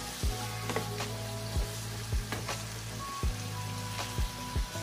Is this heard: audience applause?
no